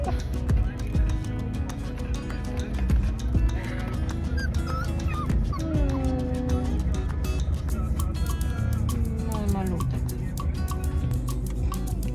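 A dog yips and whimpers in short, high, wavering cries, scattered across the clip over a busy indoor background with faint ticking.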